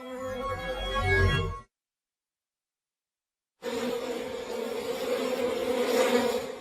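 Honey bees buzzing in a dense, droning swarm, heard in two stretches split by a couple of seconds of silence, the second stretch steady and swelling slightly.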